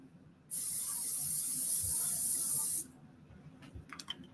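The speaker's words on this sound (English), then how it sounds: "Spray butter." A single steady hiss of a butter-flavoured cooking spray can lasting about two seconds, fairly close, followed by quiet clinks in a kitchen.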